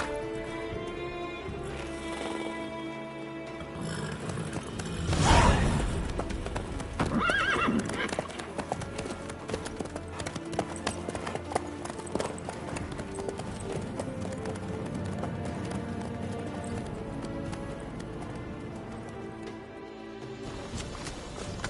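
A horse's hooves clip-clop at a walk in The Witcher 3 video game, steady and fairly close, with a whinny near the start and game music and ambience underneath.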